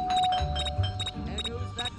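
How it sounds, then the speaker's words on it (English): A doorbell chimes in the Scary Teacher 3D video game, a bright ringing tone repeating in several quick evenly spaced bursts over a low background hum. "There goes that stupid bell again."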